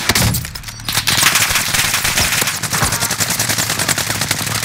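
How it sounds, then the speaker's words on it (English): Gunfire rattles through a Call of Duty: Modern Warfare match as rapid, loud automatic bursts, with a brief lull near the start and then near-continuous shooting to the end. "Who's shooting us?"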